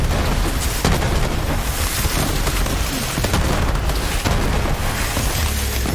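Grenades explode almost continuously in Borderlands 3, with loud overlapping booms and blasts forming a dense, roaring din with no pauses and no talking.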